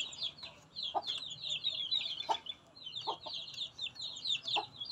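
A chicken clucks in quick repeated bursts, fairly close, with a few sharp knocks and thumps underneath, while being herded into its pen in the Philippines.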